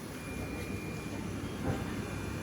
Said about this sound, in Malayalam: എടുക്കുന്നു, മെമു എടുക്കുകയാണ്